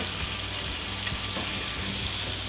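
Boiled potatoes frying with sesame seeds and spices in a pan make a steady, even hiss and sizzle, close and moderately loud, with no other sounds.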